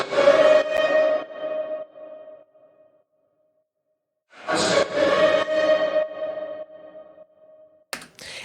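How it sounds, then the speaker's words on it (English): Chopped vocal sample of a sung phrase 'I'm stuck on you', a sustained pitched voice in two bursts with a short gap between, reverberant tails fading out, and a brief sharp fragment at the end. "here is a vocal chop that I have here"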